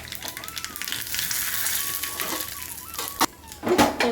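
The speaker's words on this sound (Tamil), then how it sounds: "இது நெய்யில் தான் தாளிக்கணும், அப்போ தான் வாசனை டேஸ்ட்டு எல்லாமே சூப்பராக இருக்கும் நெய்யில் தாளித்தா." Mustard and cumin seeds crackle and sizzle in hot ghee for a pudina rasam, a steady close frying hiss with small pops and a few utensil clinks near the end.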